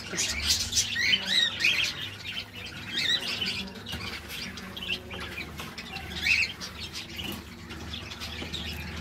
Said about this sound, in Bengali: আর পাখিগুলো ওকে দেখে বেশি ওড়াউড়ি করছে